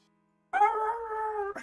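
A voice imitating the Lego Yoda death sound, a wavering, sustained dog-like howl that starts abruptly after a short silence and holds steady and loud for about a second.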